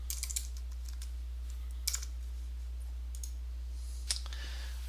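Sparse clicks of a computer keyboard in a quiet room, a few short bursts of keystrokes spaced out over steady low background hum, no talking.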